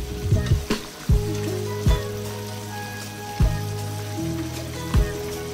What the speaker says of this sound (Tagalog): Lulutuin lang natin yung ating napa cabbage ng mga 2 minutes.